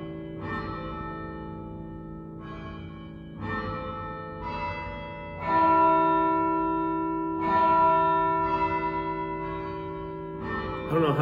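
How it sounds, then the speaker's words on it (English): Deep carillon bells strike in several waves, their low notes ringing out with long sustained tones that swell louder midway and linger. "Especially on the low bells,"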